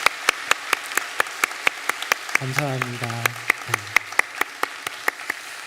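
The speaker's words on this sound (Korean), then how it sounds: "우리 박수로 격려하도록 하겠습니다" A church congregation claps steadily in encouragement during a Sunday worship service, the even claps running throughout while a voice speaks briefly partway through.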